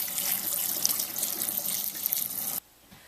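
Beans being rinsed in a colander under a running kitchen tap: a steady, close hiss of splashing water that stops abruptly near the end, leaving near silence, with no voices.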